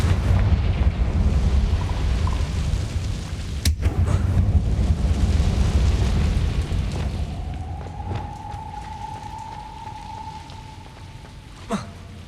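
The Confringo fire spell in Hogwarts Legacy detonates, and a dull rumbling blast rolls on under crackling, rain-like debris before slowly fading, followed by a faint tonal whine and a sharp crack near the end.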